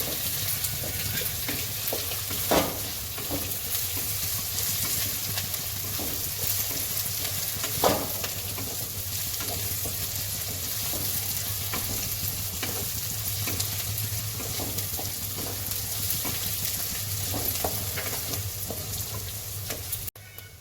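Capsicum sizzles and crackles steadily in a hot pan, with a few louder stirring scrapes, continuous and close by.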